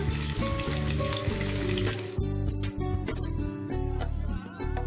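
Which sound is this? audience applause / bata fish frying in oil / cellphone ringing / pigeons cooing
bata fish frying in oil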